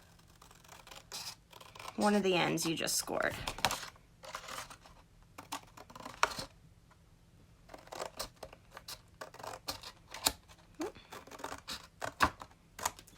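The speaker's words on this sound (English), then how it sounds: "take your scissors and actually cut off" Scissors snip through stiff cardstock in a few crisp, scratchy cuts, heard close up between stretches of a person talking.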